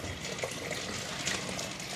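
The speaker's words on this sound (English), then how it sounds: "just got my beans in the pan. And some water." Water pouring into a pan of dry beans, a continuous bright splashing rush that stays steady and close from start to finish.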